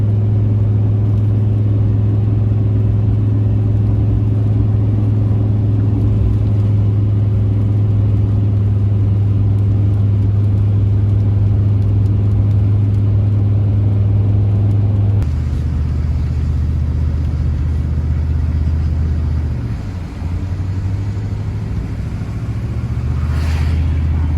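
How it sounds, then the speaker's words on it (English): Steady, loud low engine drone of a vehicle driving down the road while towing a Suzuki Sidekick, with a shift in pitch partway through as it slows, no talking. "About to pull up to Kevin's."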